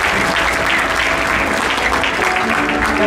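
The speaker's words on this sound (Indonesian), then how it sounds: "mohon tepuk tangannya untuk" Steady audience applause at a motivational seminar session, a dense, even wash of clapping from a large crowd that holds throughout without voices on top.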